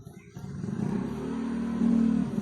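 A motorcycle passes at night, its engine drone rising steadily louder as it approaches over a couple of seconds, close and fairly clear.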